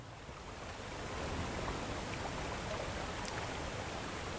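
A waterfall in the video game Horror Tales: The Wine rushes in a continuous, even wash of water noise, fairly close and steady, with no speech over it.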